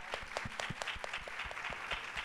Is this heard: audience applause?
yes